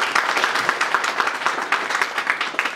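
A crowd at a Bhojpuri film event claps loudly to welcome newcomers, a dense, continuous patter of hands lasting the full stretch with no voices over it.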